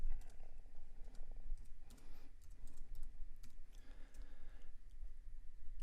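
Someone in Premiere names a new bin on a computer, tapping out quick bursts of keyboard typing with crisp mouse clicks, close and moderately quiet with no talk.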